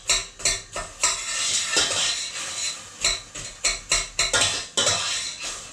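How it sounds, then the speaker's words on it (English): A utensil stirs frozen ingredients for a spicy vegan Mexican bean soup as they fry in a pot, making a string of close, sharp scraping and clinking strokes in an uneven rhythm with brief pauses between them. "Give that a nice little stir."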